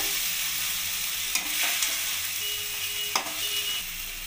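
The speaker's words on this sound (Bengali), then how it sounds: "এবার আমি মশলাটাকে ভালোভাবে কষিয়ে নেব।" Spice masala frying and being stirred in oil in a pan for a vegetarian biriyani, a continuous close sizzle with a couple of sharp spatula scrapes and knocks against the pan, no talking.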